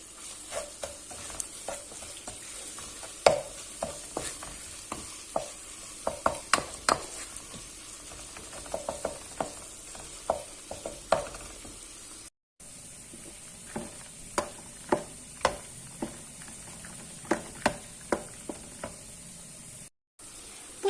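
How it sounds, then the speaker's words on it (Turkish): Spices and tomato paste are stirred into sizzling minced meat in a pan, a soft continuous frying hiss punctuated by frequent sharp scraping clicks of a spoon against the pan. "Salçamızı koyduktan sonra da baharatlarımızı ekliyoruz ve karıştırmaya devam ediyoruz."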